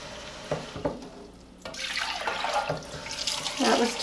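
Water runs from a tap into a bowl in bursts, splashing and hissing, with a short pause before a steadier, brighter flow.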